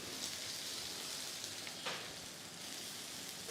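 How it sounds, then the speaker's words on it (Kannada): Chopped onions with mustard seeds, chana dal, urad dal and crushed garlic sizzle in about 50 grams of hot oil for a dhaba-style tomato curry, a steady, close crackling hiss with faint stirring. "ಇಷ್ಟನ್ನು ಮಾಡಿ ಚೆನ್ನಾಗಿ ಆಯಿಲಲ್ಲಿ ಫ್ರೈ ಮಾಡ್ತಾ ಇರ್ತೀನಿ"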